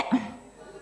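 A single short, rough cough from a man in a Khmer comedy scene, close and clear, trailing off into a faint throaty rasp.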